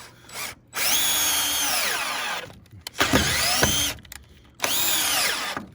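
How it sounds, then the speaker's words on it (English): A cordless drill driving a screw into wood whirs in three long bursts, pitch sagging as it strains, with short pauses between runs, close and loud. "This isn't the most powerful drill, so somebody's got to work it in a little bit."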